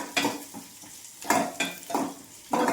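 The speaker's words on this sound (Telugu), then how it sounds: "మొత్తం ఇవన్నీ బాగా ఫ్రై అవ్వాలి." Urad dal and coriander seeds fry in a pan, with a soft sizzle broken by several scraping stirs of a spoon at an uneven rhythm, close by.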